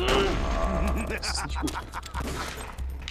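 Gunfire in the video game Metal Gear Solid: The Twin Snakes, several sharp shots and impacts over game music and effects, with someone talking over the action.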